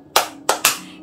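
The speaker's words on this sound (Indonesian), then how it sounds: "Kalau kau sudah siap, tepuk tangan" Small children clap along to a song, three quick sharp claps close by, the last two tighter together, with no talk.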